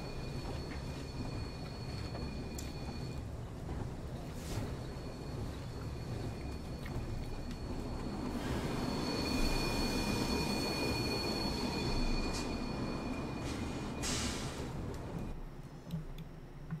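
A light railway train climbs a hill on a slate quarry line with an engine pushing behind it, giving a steady rumble of wheels and running gear with sharp squeals and clanks cutting in, heard up close from aboard.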